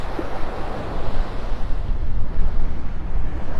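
Strong wind gusting across a Florida beach at Delnor-Wiggins in North Naples, a loud roaring rush that buffets the microphone, with surf mixed underneath.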